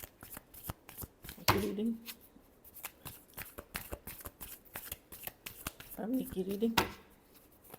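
Tarot cards are shuffled by hand in a rapid run of crisp riffling clicks, close and clear, while someone talks over part of it.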